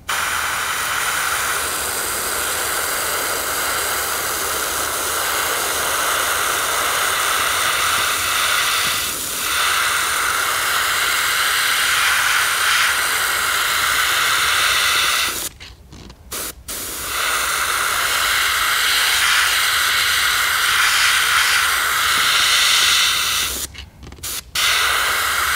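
An airbrush sprays opaque white paint at lowered pressure in a continuous, even hiss, close up, broken by two short pauses where the spray cuts out before resuming.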